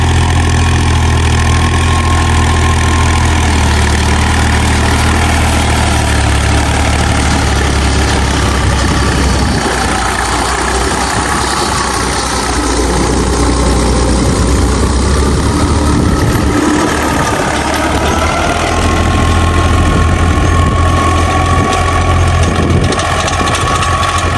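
A tractor drawing a large rotavator through a Punjab wheat field roars loudly and steadily up close, a heavy continuous engine drone with shifting load that fills the whole stretch without pause.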